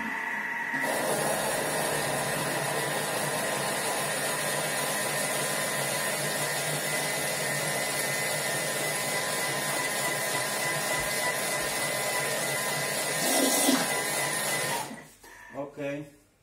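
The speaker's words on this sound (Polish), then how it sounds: "Włączę na chwilę miksę, przemielę to." A kitchen blender grinds bread ingredients with a loud, steady whirring roar that runs almost without change for about fourteen seconds, then cuts off abruptly, leaving a few soft knocks.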